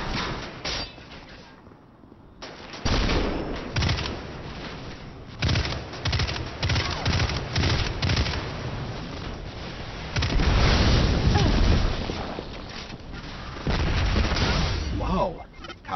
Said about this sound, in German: Ist was explodiert? War es eine Explosion?